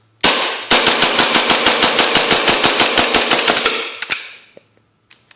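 A custom Tokyo Marui Hi-Capa airsoft pistol fires BBs: one sharp shot, then a rapid, evenly spaced string of about twenty loud, close cracks, followed by a few scattered clicks.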